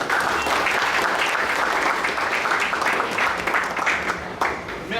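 Workshop audience at Colin's Hotel breaks into sustained, dense applause, many hands clapping together close by, steady for several seconds before tapering slightly.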